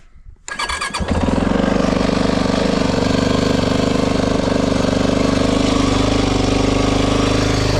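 A choked Maverick 4x4 engine cranks and catches within the first second, then idles loud and close in a steady, fast chugging rhythm with no talk over it.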